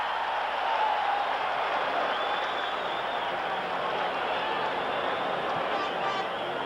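Large football stadium crowd at a 1986 Detroit versus Chicago game reacting to an announced score, a steady broad roar of cheering and applause sustained throughout, with some babble mixed in.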